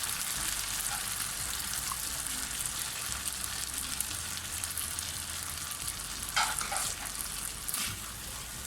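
Chicken fries in a pan over a medium flame for tikka rice, with a steady close crackling sizzle throughout and a brief louder burst of spattering near the end.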